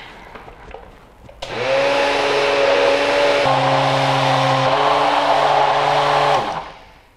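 A food processor motor whirs loudly and steadily for several seconds as it churns a thick raw protein cookie dough. It starts abruptly, drops slightly in pitch midway, then winds down at the end with no talking.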